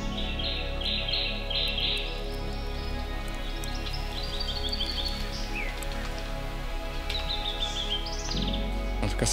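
Several birds call and chirp in repeated bursts and trills over a constant hum of insects in dense forest on Mount Kilimanjaro, a dense natural background throughout.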